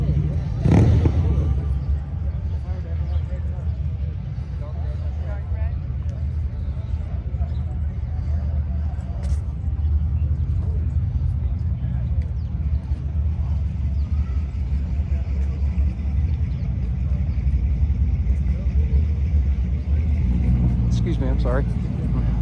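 Several Ford Mustangs from a club outing rumble past in a steady, loud low-end drone that holds for over twenty seconds, with a sharp transient near the start; voices can be heard faintly in the background.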